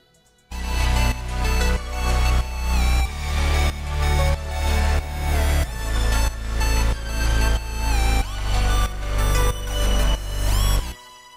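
A bright synth lead plays a melodic line over a pop chorus with pumping, sidechained bass and a steady four-on-the-floor beat, loud and dense, with no voices.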